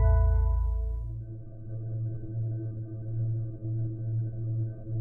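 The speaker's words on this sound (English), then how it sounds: "The ominous humming sound you hear is the containment field." A sci-fi black hole containment field hums ominously: a low, steady electronic drone with sustained tonal layers, starting with a swelling burst and settling into an even, continuous hum.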